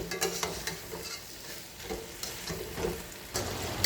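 Brown stock base roasting in a pan, a continuous sizzle broken by several scraping strokes of stirring, close and moderately loud with no talk.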